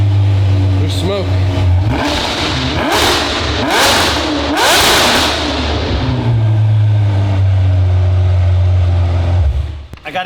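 A Ferrari V12 with a flashing oil light and possible engine damage, loud and close, revving repeatedly in sharp bursts between steady idle stretches, with people talking over it.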